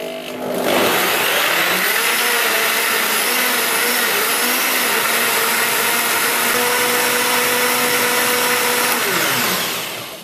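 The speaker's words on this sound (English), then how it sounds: "And then on goes our blender." A jug blender's loud, steady motor whir starts up and runs continuously for several seconds while blending a green smoothie, then winds down near the end, with high whining tones throughout.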